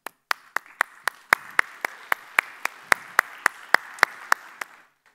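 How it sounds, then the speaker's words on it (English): Conference audience at a code.talks 2016 session on Progressive Web Apps breaks into applause, heard as a sparse, steady run of crisp, evenly spaced claps, fairly close, fading out after about five seconds with no talking. "this actually deserves a round of applause"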